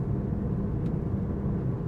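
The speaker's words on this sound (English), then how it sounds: "You can hear the engine run right now." Steady low rumble from a 2017 Toyota Prius hybrid engine running while driving on a narrow, twisty country road, a continuous close drone without talk.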